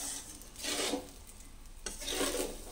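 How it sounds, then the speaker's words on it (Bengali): Rice for white pulao being stirred in a pan, giving two rasping, scraping sweeps of a spoon against the grains and metal, moderately close with quiet gaps between. "এরকম করে 5 মিনিট নাড়তে হবে"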